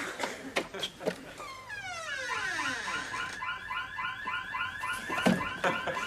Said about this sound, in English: No, ring the alarm bell. It's quicker.